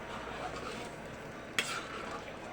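Mung beans and pork being stirred in a cooking pot with malunggay: a quiet, steady scraping and swishing, with one sharp clink of the spoon against the pot partway through.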